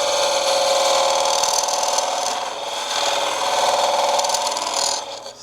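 A screwdriver scrapes out the inside of a turned wooden hollow form spinning on a lathe, giving a loud, continuous rasping chatter with a steady motor hum that fades near the end.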